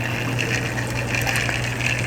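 Water pours steadily into a hang-on-back aquarium filter, a continuous close gushing and trickling with a low pump hum beneath.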